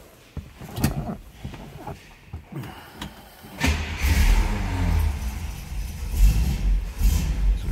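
A 1965 Buick Riviera is started after a few clicks and a brief crank, then the engine catches and settles into a steady, rumbling idle close by.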